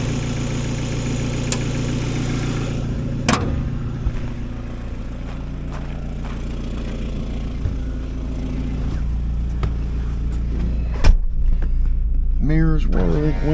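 A 1997 Mazda Miata engine idles and runs in a low, steady drone throughout, with a few clicks and small bumps along the way.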